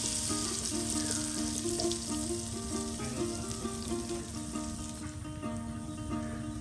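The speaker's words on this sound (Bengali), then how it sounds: "তেলে ভাজা ডিমের পিঠা কিন্তু তৈরি করে নেওয়া হচ্ছে" Egg pitha sizzles in hot oil over a rural cooking fire on a river char. The frying is steady and continuous, with faint background tones and no talk.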